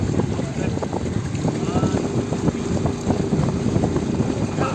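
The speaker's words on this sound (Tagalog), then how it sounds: "Kahit na mainit siya, napakalakas ng hangin." Strong wind buffets the microphone in a steady, loud rumble throughout, with faint voices and what may be water or boat noise underneath.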